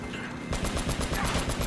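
Quick, loud volley of automatic gunfire in Uncharted: Drake's Fortune, a rapid burst of close shots repeating evenly for about a second.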